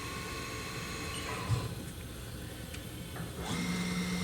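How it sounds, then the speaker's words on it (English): A Haas VF-3B CNC vertical machining center's spindle whirs up toward 2500 RPM, a faint steady machine hum with a soft clunk partway as it shifts gears and a higher whine emerging afterward. "Next we'll go up to 2500 RPM where it will shift gears."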